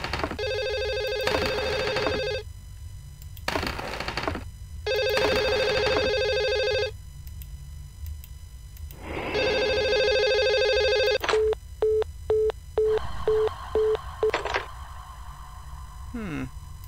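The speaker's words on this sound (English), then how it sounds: "Phone? Is that in the hallway?" Telephone in The Emptiness video game ringing in steady repeated bursts, then a fast beeping busy signal, loud and close, with game sounds between rings.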